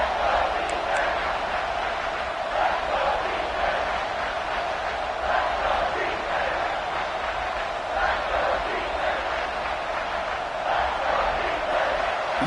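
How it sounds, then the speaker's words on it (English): A football stadium crowd roars for the defense near the goal line, a dense, sustained wall of cheering that swells in waves, with a commentator talking over it. "crowd really making some noise now, trying to help out this defense to get this stop near the goal line"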